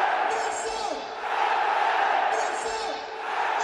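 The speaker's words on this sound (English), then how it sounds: "When you hear this crowd, they believe." A stadium crowd roars through a Napoli versus Real Madrid Champions League match, the loud massed noise rising and falling in waves beneath a commentator's voice.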